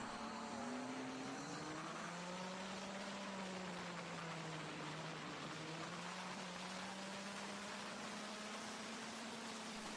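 A Mach 1 racing kart engine drives down the main straight at Hooton, holding a loud, steady, buzzing drone close by whose pitch rises and dips slightly over the ten seconds, with no talk.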